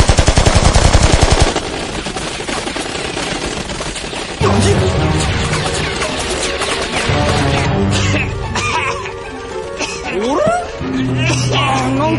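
A rapid burst of automatic gunfire erupts in a Desert Punk anime scene, loud and dense at first, then gives way to clattering action sounds.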